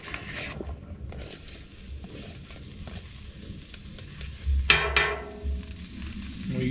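Vegetables sizzling in oil on a Blackstone griddle, a quiet steady fry with a louder hiss and some scraping near the middle, nearby and without talk.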